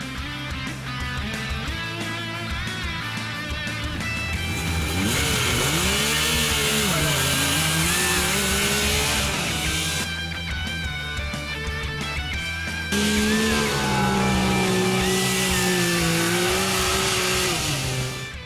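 Yamaha four-wheel buggy engine driving in the Glamis sand dunes, a loud, close engine droning and revving up and down in pitch, with a surge in power partway through.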